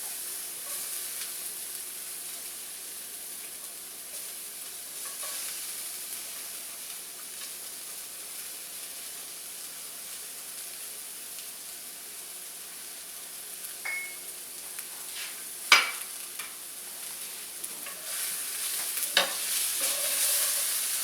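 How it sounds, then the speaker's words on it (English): Red onion and garlic sautéing in a pan for homemade onion dip, a soft continuous sizzle with a few sharp utensil clicks and scrapes near the end, close but fairly quiet. "I want to get the red onion to just kind of soften a little bit"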